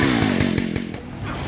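Jack's chainsaw arm roars in the Wii game MadWorld, a loud buzzing engine with rhythmic pulses that slowly winds down before revving back up.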